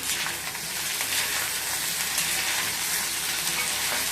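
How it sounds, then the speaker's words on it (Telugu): Potatoes frying for a stir-fried side dish, a dense steady crackling sizzle close up in the pan, with no talk. "ఇది అప్పుడప్పుడు వేపుకుంటా ఉండాలి, అడుగు పట్టకుండా."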